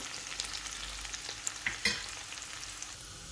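Garlic and onions fry in a pan with a faint, steady sizzle, broken by a few sharp clicks and scrapes of stirring around the middle, no speech.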